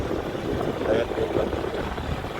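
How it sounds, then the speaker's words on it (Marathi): A shared rural auto-rickshaw (tamtam) engine drones steadily during a village ride, a close, rough, continuous hum with rattling under it and a voice speaking over it. "आणि असाच असतो टमटमचा प्रवास गावाकडनं."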